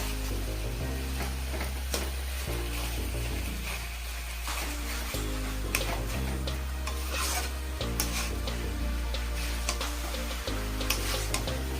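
Chicken with spices is stirred in a pan, a steady rhythmic scraping and rubbing with faint sizzling, repeated strokes close and clear over a low hum, with no talking.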